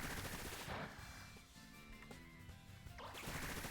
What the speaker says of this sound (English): Instead, we just get a Bullet Seed into Amoonguss.